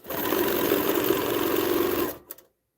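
A Baby Lock Gallant XL long-arm quilting machine stitches a quilt along a pantograph, a loud close continuous whirring hum that stops abruptly, followed by a few faint clicks and silence.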